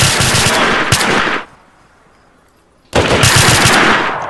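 Rapid automatic gunfire in the DayZ survival video game: a loud, close burst of shots, a sudden pause of about a second and a half, then a second sustained burst, with no speech.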